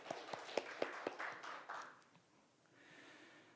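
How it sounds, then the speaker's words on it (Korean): Brief self-congratulatory clapping at an online 70th-anniversary ceremony of the Korea National Council on Social Welfare, a handful of sharp claps in quick succession followed by a fading scatter of softer claps and room tone. "비록 온라인이지만 자축의 박수 한번 쳐볼까요?"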